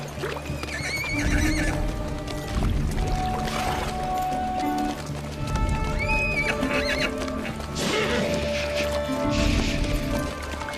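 Horses neigh and whinny loudly several times, with clip-clop hooves and splashing water from horses drinking in a desert setting with soldiers, while someone talks over them.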